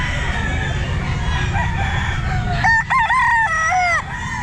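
Boston Roundhead rooster, eight months old, crowing loudly and close at a busy pet market, one drawn-out crow over a constant crowd and background din.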